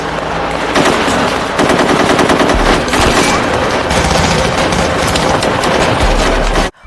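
Gunfire in an action film scene set during a hotel siege in Mumbai: sustained rapid machine-gun bursts and rattling shots, loud and close, running almost without pause before cutting off abruptly.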